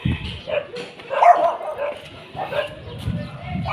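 A dog barks and yips a few times at moderate distance, mixed with nearby voices talking.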